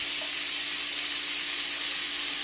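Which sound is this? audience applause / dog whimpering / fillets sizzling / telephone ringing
fillets sizzling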